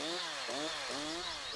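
A chainsaw cuts into a tree trunk, its engine loud and close with a steady whine that dips and recovers as the blade bites.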